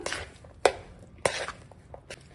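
Italian seasoning being mixed into a spring roll filling with a spoon, giving a few sharp close scrapes and taps against the bowl among quieter stirring rustles.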